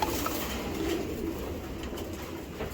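A female long-distance racing pigeon coos softly in a low, repeated murmur against a steady background hum.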